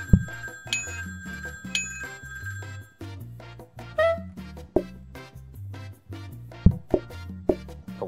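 Bell ringing in the cooking game PlateUp, several short bright dings repeating through the first few seconds over a steady game music loop, with no voices.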